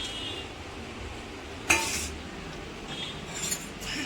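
Whole garam masala spices, including black and green cardamom and bay leaves, hit hot oil in a pan with a sudden sizzle and metal clinks, followed by a softer sizzle and a few more utensil taps.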